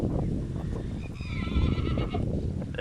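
Horses and mares in a stable let out a loud, close whinny that rises and trembles for about a second, with shuffling and hoof noise around it.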